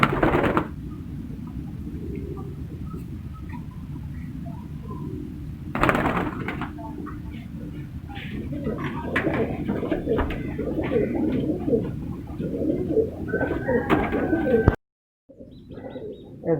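Shirazi khal pigeons coo steadily at close range in a breeder's loft, with chirps and a brief door-like knock mixed in and a short quiet gap near the end.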